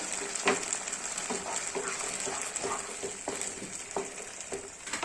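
Mango and coconut paste pours into a hot pan for Kerala manga curry, giving a steady close sizzle and frying hiss with soft stirring scrapes throughout.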